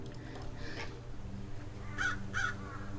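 Crows caw in Dracula's Legacy: a faint call early, then two sharp, close caws in quick succession over a quiet ambient backdrop.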